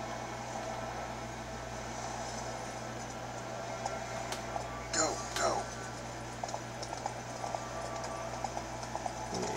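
Horse hooves clip-clop in an open-world game played on an ASUS FX53VW-GH71 laptop, a few brief knocks around the middle of the clip, faint against a steady hum of background game ambience.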